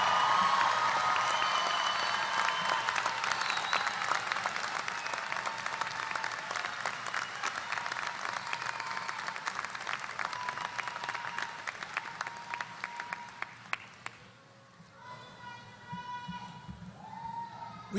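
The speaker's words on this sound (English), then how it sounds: "let's give a big round of applause to the class of" A large crowd at a university graduation commencement applauds in a long, steady wash of clapping that gradually thins out and dies away toward the end.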